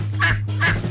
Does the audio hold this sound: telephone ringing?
no